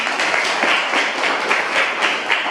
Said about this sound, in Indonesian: Untuk presentasinya kita berikan dulu tepuk tangan.